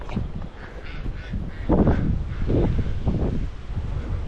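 Farm geese and chickens on a hillside farm in Boquete, Panama, a few honking and squawking calls at mid distance amid wind noise on the microphone.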